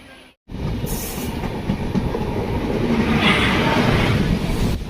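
A passenger train runs along the Araku railway line near Visakhapatnam, with a loud, steady rumble and wheel clatter heard up close and continuous after a brief dip at the start.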